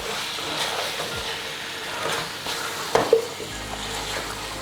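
A spoon stirs chicken pilau with coriander in a pot, making a soft, continuous scraping sizzle with a brief clink near the middle.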